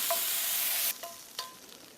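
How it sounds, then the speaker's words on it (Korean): Beef stir-fried in a pan for bibimbap, a bright sizzle that cuts off after about a second, followed by short bursts of sizzling and stirring scrapes, close and without talk. "이렇게 고기까지 잘 볶았습니다"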